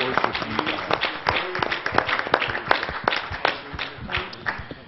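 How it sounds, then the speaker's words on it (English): Pentecostal church congregation clapping hands in praise during an evening service, a dense run of sharp, close claps with a few voices calling out over it. "Can you give the Lord a hand clap of praise tonight?"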